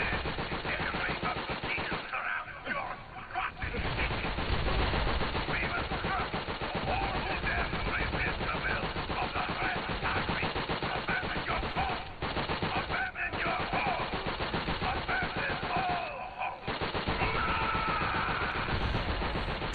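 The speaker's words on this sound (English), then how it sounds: "I'm kind of sort of just shooting in the direction I see gray shirts." Rapid machine-gun and rifle fire in the World War II video game Call of Duty: World at War, continuous bursts rattling throughout with brief pauses, loud and dense under battle noise.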